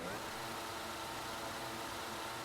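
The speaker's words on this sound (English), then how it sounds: "he does a few donuts as he's got a bit of time" Race car engine in the WRL racing video game droning steadily while the car spins donuts, a continuous loud mid-pitched engine roar with no break.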